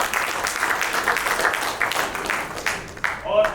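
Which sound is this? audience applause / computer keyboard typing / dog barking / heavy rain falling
audience applause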